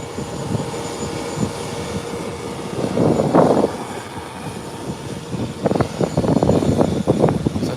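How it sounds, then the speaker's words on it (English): An airplane landing at Howard Hamilton International Airport makes a sustained low roar from a distance, with the engine noise swelling briefly and then rising again into a rougher rumble toward the end. "Beautiful landing."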